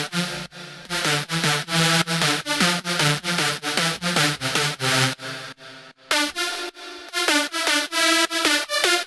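Serum synth lead using the Festival Season preset, playing alone as a bright, buzzy, rhythmic chopped pattern of sustained stabs with a brief gap near the end before resuming, loud and up front.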